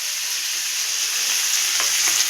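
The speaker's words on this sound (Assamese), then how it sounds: "ভাজিখিনি ইমান ধুনীয়াকৈ সিজিছে" Vegetable stir-fry sizzling steadily in a pan, a continuous close hiss with a few faint scrapes or pops near the end and no talking.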